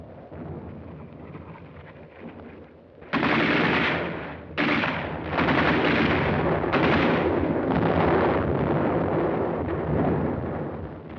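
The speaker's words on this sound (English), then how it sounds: "they encountered mines and automatic fire from pillboxes" Automatic fire from pillboxes during the WWII Battle of San Pietro in Italy: after a low rumbling start, a loud, dense roar of sustained gunfire and blasts begins abruptly and continues in heavy waves.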